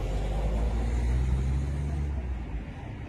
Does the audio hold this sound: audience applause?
no